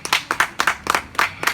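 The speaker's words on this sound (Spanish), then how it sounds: "Denle un fuerte aplauso al Dios de Israel." A small church congregation claps in a loose, rhythmic pattern, with distinct, close hand claps arriving in quick pairs and clusters, fairly loud and free of speech.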